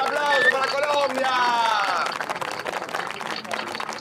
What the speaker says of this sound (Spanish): un fuerte aplauso para Colombia